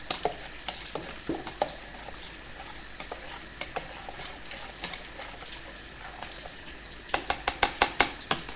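A utensil stirs stock in a pot, with light scraping and a string of sharp clinks against the pot's side, clustering into rapid taps near the end.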